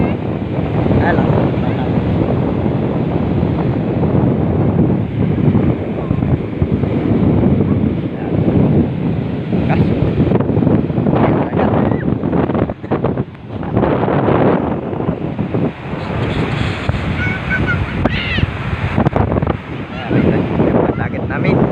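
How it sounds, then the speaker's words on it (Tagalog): Sea waves and strong wind at the Cavite coast during stormy typhoon weather, a loud continuous roar of surf with heavy wind buffeting the microphone throughout. "Yan po ang dagat sa Cavite."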